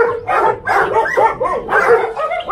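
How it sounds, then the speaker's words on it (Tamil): A German shepherd barks loudly and repeatedly from inside a cage at a dog farm in Attur, Salem, its close, rough barks coming in quick bursts with brief whines between them. "ஜெர்மன் செப்படு இந்த கேஜுக்குள்ளே இருக்கு."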